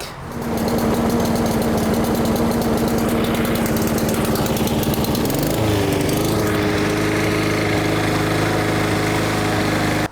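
A lawn mower engine with its choke stuck on runs loud and steady close up, its pitch dipping briefly midway before it settles back into a constant, rough drone.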